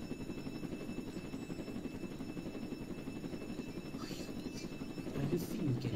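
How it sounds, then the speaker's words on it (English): A steady helicopter rotor drone from the Roblox game Jailbreak hums throughout at moderate level, with faint background noises. "My helicopter is just there."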